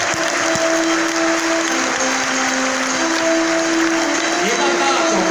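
Sustained applause from an audience welcoming officials arriving at a ceremony hall, dense and steady throughout with a faint musical tone running underneath.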